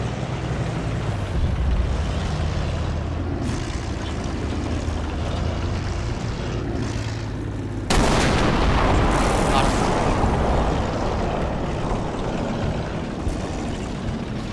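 Gunfire and explosions from War Thunder tank combat, a dense, continuous rumble of shots and blasts that jumps abruptly louder midway and stays heavy to the end, with no voice on top.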